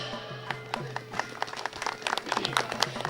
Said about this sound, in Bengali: তাই নিজেদের জন্য আগে একটা জোরে হাততালি দিন সবাই